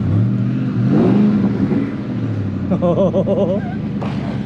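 A modified 2003 Ford Mustang Cobra engine approaches up a street, its loud revving growl rising and falling up close while someone briefly exclaims over it.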